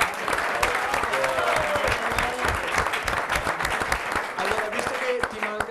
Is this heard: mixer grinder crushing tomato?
no